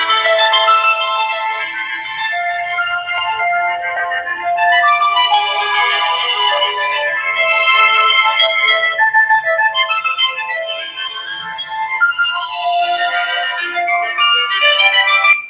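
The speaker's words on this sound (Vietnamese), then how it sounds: "Đó chính là âm thanh nổi tiếng, rất quen thuộc, âm thanh của điện thoại Vertu chính hãng." Startup tune of a navy blue Vertu Signature phone: a bright, clear electronic melody of chiming notes that plays alone and loud for about fifteen seconds.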